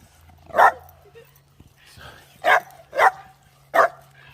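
A dog barks outdoors on a walk near Branksome Chine, five sharp loud barks spaced irregularly across a quiet background, mostly single with a pair close together.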